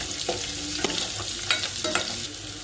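Dry red chillies, cut small, and garlic frying in hot oil for a tomato sambar: a steady, close sizzle with a few sharp spatter pops and spoon scrapes against the pan, no voices.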